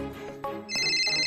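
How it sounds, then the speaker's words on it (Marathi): A mobile phone starts ringing indoors, a bright repeating electronic ringtone rising clearly after a brief muffled moment, with no talk over it. "अहो तुमचा फोन वाजतोय कवापासून?"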